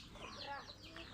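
Chickens cluck softly in a rural yard in the Philippine countryside, a faint, continuous run of overlapping calls with no clear talk.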